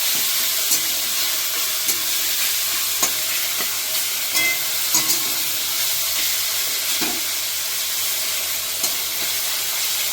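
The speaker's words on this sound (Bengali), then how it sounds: "চিকেনটাকে আমি ভালো করে একটু কষিয়ে নেবো।" Chicken pieces sautéed in a hot pan for egg chicken fried rice give a steady, close sizzling hiss, broken by occasional sharp clicks and scrapes of stirring, with no voices.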